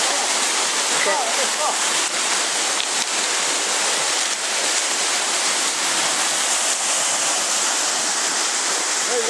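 A waterfall in Newfoundland roars steadily and loudly for the whole stretch, a dense unbroken wash of rushing water with no pauses.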